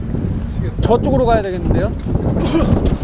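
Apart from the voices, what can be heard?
strong wind blowing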